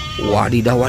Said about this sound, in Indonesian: Yang ini ada domba.